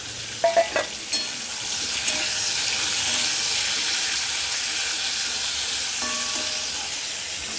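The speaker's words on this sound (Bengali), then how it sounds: "এবার আমি এই তেলটাও গরম হয়ে গেছে, এর মধ্যে কাঁকরোলটা দিয়ে দেবো।" Teasel gourd (kakrol) frying in hot oil gives a steady, close sizzle and hiss that holds evenly throughout, opening with a few brief clinks of a utensil against the pan.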